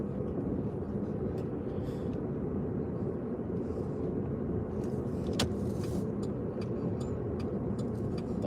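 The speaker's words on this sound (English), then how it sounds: "My car does not sound very good." A car engine drones steadily while driving, with a constant low rumble and road noise throughout and no clear speech, suggesting a rough-running engine.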